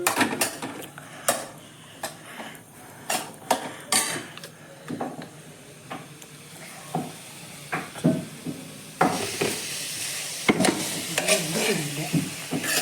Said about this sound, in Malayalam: നമ്മുടെ എണ്ണ ഒഴിച്ച് വഴറ്റാൻ പോവാണ്